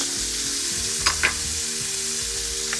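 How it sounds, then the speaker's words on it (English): Diced celery, carrot and onions fry in a pan already used for browning beef, giving a steady close sizzle with a couple of brief clinks from stirring partway through. "All we've got to do now in the same pan is just start sealing off all the diced vegetables."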